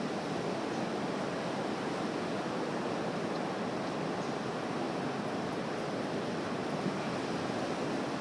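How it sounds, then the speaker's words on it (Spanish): Ocean waves wash in and out in a steady, broadband roar of surf that holds an even level throughout, with no voices or other sounds on top. "tal vez escuchas al fondo las olas del mar"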